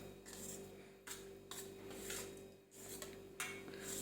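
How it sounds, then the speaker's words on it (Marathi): A spoon stirring shrikhand, sweetened strained yogurt, in a bowl: soft scraping and rubbing strokes in an irregular rhythm, quiet and close, with no talk. "आता हे आपण असं मिक्स करायचं"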